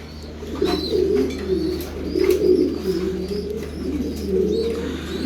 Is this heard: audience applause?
no